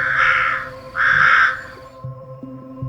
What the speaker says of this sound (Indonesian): Seekor burung terbang ke sana kemari, mengitari rumah